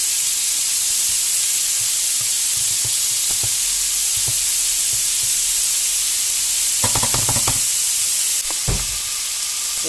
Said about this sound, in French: que les oignons brunissent, on fait revenir un petit peu les jambons de Bayonne.